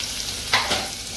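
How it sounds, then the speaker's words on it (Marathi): Onion hitting hot oil in a pan for egg biryani, a steady close hiss of frying with a brief louder sizzle burst as it is stirred, no voices. "आता कांदा टाकला बघा यांनी"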